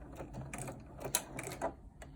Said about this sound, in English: now we're going to sew at 1/4 of an inch